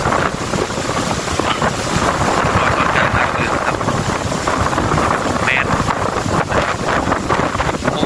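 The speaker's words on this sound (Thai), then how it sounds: "มีแต่เสียงลม" Strong wind roars across an exposed clifftop viewpoint, buffeting hard and loud with a steady, dense rush that never lets up.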